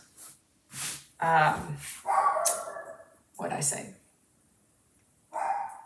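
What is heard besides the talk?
Cavapoo dog barking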